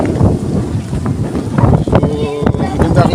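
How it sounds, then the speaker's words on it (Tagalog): Strong wind buffets the microphone in steady, loud gusts at a windmill farm view deck in Pililia, Rizal, with muffled voices of a crowd underneath. "lakas na hangin"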